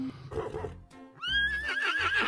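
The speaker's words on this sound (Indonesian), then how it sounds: "Ternyata ini hewan kuda." A horse whinnies loudly in a rising, wavering neigh lasting about a second, following a stretch of softer mixed sound; fairly close and clear.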